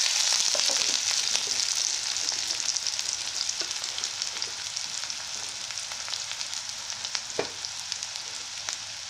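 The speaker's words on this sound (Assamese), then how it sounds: "পিঁয়াজখিনি অকণমান ৰঙচুৱাকৈ ভাজি লৈছোঁ" Chopped onions with a few cardamom pods fry in hot oil, a steady close sizzle with scattered crackles and pops running throughout, gradually settling slightly quieter.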